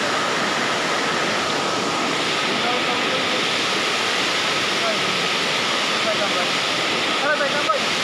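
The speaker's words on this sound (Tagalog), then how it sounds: "So, ito na, Dream Falls, Aliw Falls" Aliw Falls in Luisiana, Laguna, pours down as a steady, close roar of falling water. The dense rushing noise holds even and loud throughout, with no clear break.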